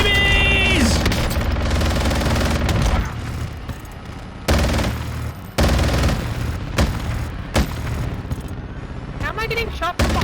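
Video game gunfire comes as repeated loud bursts and rapid volleys, some long and some short, mixed with other game sounds and voices.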